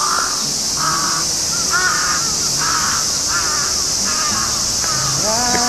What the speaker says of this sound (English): That crow isn't very happy either, I guess.